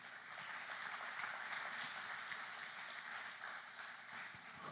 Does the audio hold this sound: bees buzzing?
no